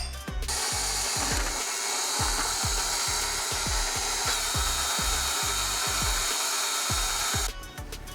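Electric mixer whips cake frosting with cocoa powder in a bowl, a steady, close whirring drone broken by regular rhythmic knocks of the beaters against the bowl.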